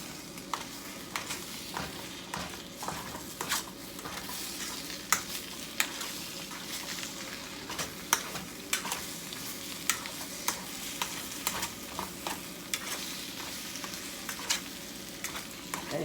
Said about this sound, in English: There, you stir.